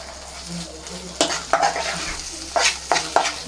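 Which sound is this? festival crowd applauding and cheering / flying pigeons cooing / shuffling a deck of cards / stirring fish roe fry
stirring fish roe fry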